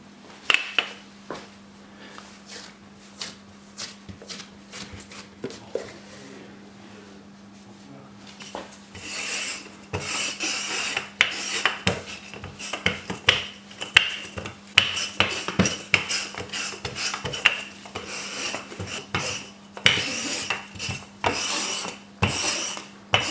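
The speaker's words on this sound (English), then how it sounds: "spread the dough with a roll up to half an inch" Rolling pin spreading shortbread cookie dough on a floured surface, giving soft repeated rubbing and scraping strokes that grow busier and louder partway through, with light knocks and a faint steady hum beneath.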